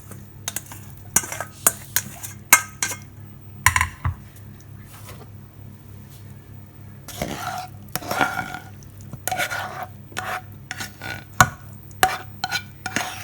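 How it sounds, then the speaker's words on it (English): Pasta and vegetables are stirred into sauce for a pasta bake, with a utensil clinking and scraping against the dish in repeated, uneven strokes, loud and close. "Going to stir in our pasta and vegetables."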